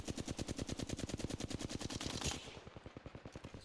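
Video game machine-gun fire in a rapid, even stream of shots, loud and close, dipping slightly in level partway through but continuing to the end.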